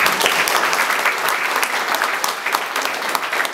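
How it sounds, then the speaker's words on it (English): An audience at a morning divisional breakfast gives a round of applause, a fairly close, continuous patter of many hands clapping that holds evenly throughout. "One more round of applause."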